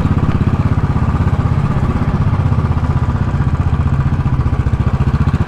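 Royal Enfield Classic 500 single-cylinder motorcycle engine on a test ride, thumping in a loud, close, steady rapid pulse throughout, with no voices.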